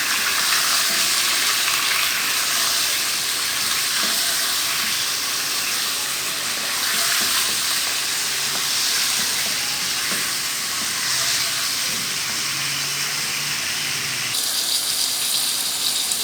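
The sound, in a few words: chicken frying for karahi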